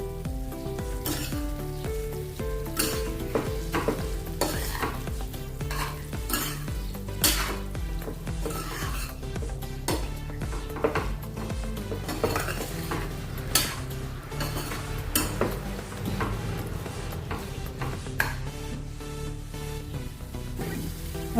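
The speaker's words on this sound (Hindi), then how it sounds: "अभी अच्छे से इसको मिक्स कर लेंगे।" Sizzling okra masala in a hot pan with scraping and clinking as a utensil stirs vegetables, steady and close throughout.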